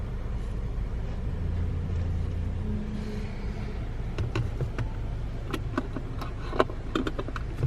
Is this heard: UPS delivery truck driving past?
yes